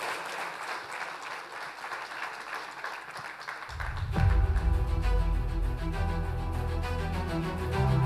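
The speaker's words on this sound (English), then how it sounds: "Big round of applause for Bharat Goenka, please." An audience at a print industry summit breaks into steady applause that swells partway through and continues strongly, a dense wash of clapping with stage music or sound rising underneath.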